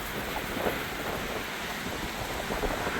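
Strong wind roars across a mountain trail on the Appalachian Trail, a steady, loud broadband rush with slight gusting swells and no voices.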